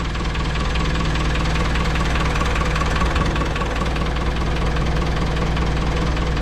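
A bucket truck's engine runs loud and close while raising the basket, a constant low rumbling drone with a rapid knocking pulse and no speech.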